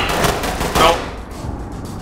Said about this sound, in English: Dude was shooting through bricks.